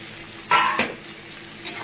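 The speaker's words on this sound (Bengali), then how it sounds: "এবার আমি টমেটো আর কাঁচা লঙ্কাটা দিয়ে দিচ্ছি এর মধ্যে" Tomatoes and green chillies drop into hot oil over fried onions, giving a sudden burst of sizzling with a brief stirring clatter, close and loud with no talking.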